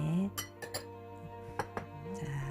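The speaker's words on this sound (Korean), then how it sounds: "자 요래요래 잘 섞으면서 설탕이 녹도록 일단은 저어줘야 되겠지자" A spoon stirs a Korean seasoning sauce in a bowl to dissolve the sugar for grilled deodeok, giving several sharp metal-on-bowl clinks over a steady low background hum.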